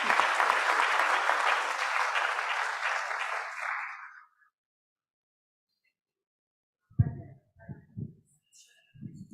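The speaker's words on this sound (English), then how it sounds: "please once again give a big applause for Prof. Anita" Applause from a guest lecture audience fades out over about four seconds, followed by silence, then a person begins speaking.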